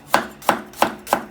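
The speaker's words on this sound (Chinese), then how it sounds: "切点姜片" A knife slices ginger on a cutting board in four crisp, evenly spaced chops, close and clear with no talking.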